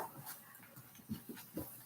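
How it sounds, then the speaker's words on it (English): A dog indoors pants and faintly whimpers in soft, rhythmic bursts, quiet and close by with no talk over it. "My dog wanted to say hi."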